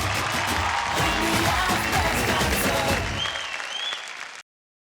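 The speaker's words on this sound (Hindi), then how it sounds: "जोरदार तालियां हो जाए" Studio audience clapping and cheering for dancers on an Indian TV dance competition, loud and continuous, with music underneath, fading out abruptly after about four seconds.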